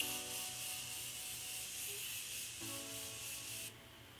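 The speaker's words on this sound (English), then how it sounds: "I'm just going to set my face with the Morphe Continuous Setting Mist." Morphe Continuous Setting Mist sprays onto a face in a soft, steady close hiss that lasts several seconds, then cuts off, with no talking.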